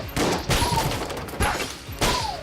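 Rapid gunfire bursts from the video game Enter the Gungeon on Nintendo Switch, with three loud volleys of shots plus whooshing projectile tones, all without talk.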